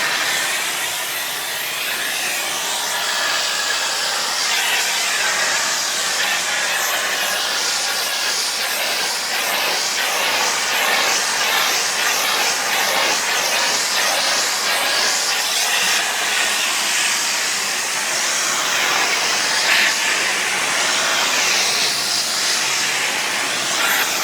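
Vacuum cleaner with a Fur-eel Pro II pet hair tool attached, running steadily as a loud, continuous airy roar and hiss without a break.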